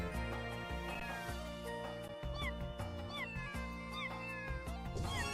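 In-game cat meows from a Casio Loopy video game ring out as several short, rising-then-falling cries over steady electronic game music.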